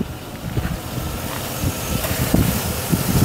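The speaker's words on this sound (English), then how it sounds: "so you can definitely hear what it sounds like when the engine is running" A 2002 Chevy Avalanche truck engine runs at a smooth idle, steady low rumble close by with a broad hiss on top and faint wind noise.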